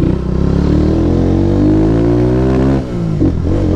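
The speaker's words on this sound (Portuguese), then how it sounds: "Ele dá uma picada aqui e depois a moto abre." A Honda CG 150 Sport motorcycle engine revs up close and loud, the pitch climbing steadily, then dropping briefly with a stumble before picking up again.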